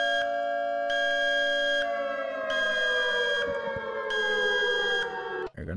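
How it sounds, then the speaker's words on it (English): Refinery alarm siren in Minecraft with the HBM Nuclear Tech mod, a loud sustained wailing tone that pulses on and off with a slowly falling pitch, then cuts out abruptly. "If there is an accident going on, you can set your alarm switch"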